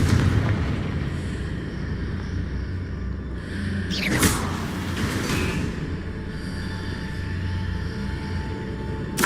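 Confringo fire spell going off in Hogwarts Legacy, a sharp blast that bursts out and then rumbles away over a steady game backdrop, with a voice casting the spell.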